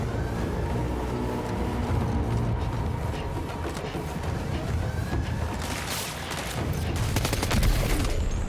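Sharp gunfire and mechanical clatter in Death Stranding 2, a sniper's shots cracking over a steady rumbling background, with louder bursts toward the end.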